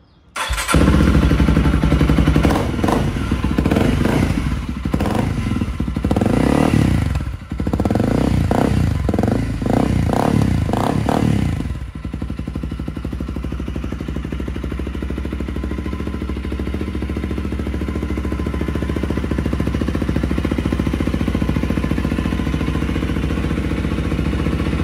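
A 2023 Honda CRF 300L dual-sport motorcycle starts up close by, its exhaust firing in loud uneven bursts and blips for about twelve seconds before settling into a steady, quieter idle rumble, with no talking.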